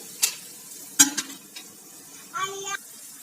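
A few scattered scrapes and clinks of a utensil stirring spice masala roasting in a pan over medium heat, with a brief sizzling burst near the end, quiet overall.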